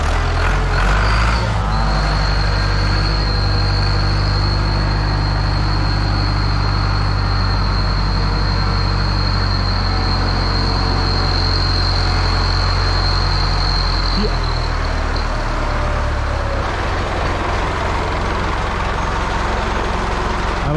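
A loud, heavy engine runs continuously close by, with a deep throbbing drone and a high whine that rises, holds, then drops away.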